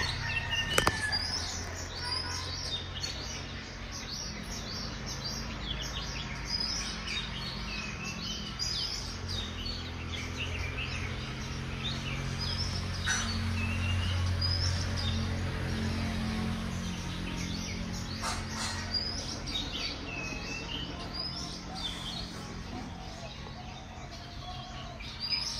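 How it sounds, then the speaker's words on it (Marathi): Birds chirp and sing in the Konkan countryside, with scattered short calls spread across the scene over a low, steady background rumble. "मस्त नेचरचा आवाज, शांत एकदम. पक्ष्यांचा आवाज"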